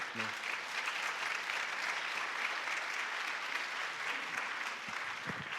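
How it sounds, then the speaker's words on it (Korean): An audience at a church Easter concert applauds as an elder comes forward, steady sustained clapping throughout, moderately distant in a large hall. "크게 박수로"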